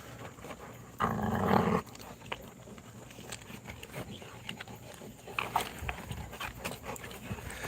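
American cane da Presa dogs make low growling and panting sounds, faint and at a moderate distance, with a louder rough burst early on and scattered short noises afterward.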